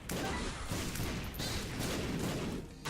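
Dense continuous barrage of bomb explosions in The Binding of Isaac Afterbirth, Greed mode, loud rumbling booms overlapping without pause for the whole stretch, no voices.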